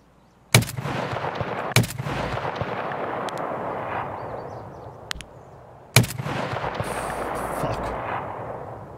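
Three heavy .338 Lapua rifle shots ring out in Escape From Tarkov, each a sharp loud crack with a long rolling echo. The first two come close together and the third follows after a pause.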